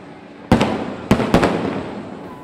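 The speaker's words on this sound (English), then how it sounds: "Fireworks blast off from three different spots on a giant stage that spans the river on both sides" Fireworks from the 40th annual Western & Southern / WEBN show over a river burst in three sharp, loud booms, each trailing off into a crackling rumble, with no talk.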